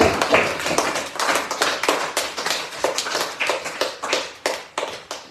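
A church congregation applauding together during a worship service, dense rhythmic claps repeating steadily, loud and close, with no talk over them.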